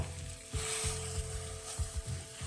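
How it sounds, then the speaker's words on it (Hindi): Chhena cooks in a pan over a low to medium flame with a steady sizzle, while soft stirring scrapes sound close by at irregular intervals. "अभी हमें लो टू मीडियम फ्लेम पे 4 से 5 मिनट छेना पकाना है।"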